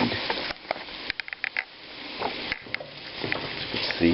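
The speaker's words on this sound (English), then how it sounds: "I'm going to let this simmer for about 1 to 2 minutes." Pork and beans with bacon and smoked sausage simmering in a pan give a steady soft sizzle with faint bubbling pops and a few clinks of a utensil, close and fairly quiet, with no talking.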